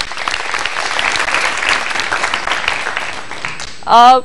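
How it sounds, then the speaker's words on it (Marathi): A studio audience on a student television programme applauds a student-made video with dense, sustained clapping, close and loud, then a voice starts speaking at the end. "त्यांच्यासाठी एकदा जोरदार टाळ्या."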